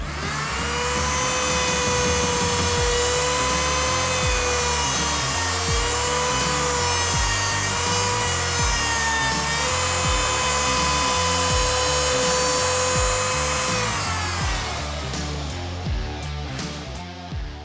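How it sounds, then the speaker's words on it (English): An electric router cuts 4mm-deep hinge recesses into a wooden fire door, a loud continuous high whine with rhythmic loading and easing as it moves through the wood, then spins down at the end. "So I'll set my router up to 4mm deep, and we can router the hinges out accordingly."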